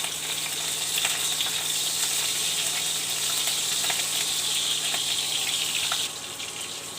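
Nigella seeds and slit green chillies dropped into hot oil in a karai give a steady, loud, even sizzle that hisses on without pause and with no voices.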